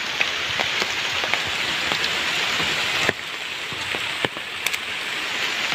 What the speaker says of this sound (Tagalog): Uwi na kami, mga idol, kay lakas ng ulan.